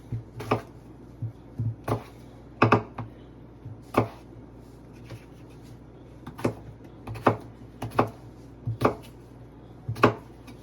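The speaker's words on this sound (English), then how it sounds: "And we're just going to cut across" A knife chops through potatoes on a cutting board, giving sharp, separate thuds at an uneven pace, about ten cuts spread across the stretch, fairly close and clear with no talking.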